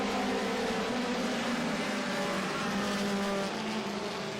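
Sport compact race cars pull away together at the start of an oval-track race at Autodrome Granby, a dense, steady roar of many engines heard from a distance with crowd-like wash behind it.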